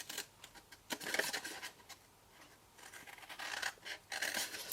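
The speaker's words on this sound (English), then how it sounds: "cut straight up those lines" Scissors snip through card along scored lines of a box, a series of crisp close cuts in short bursts with a brief pause between runs, quiet room and no talking.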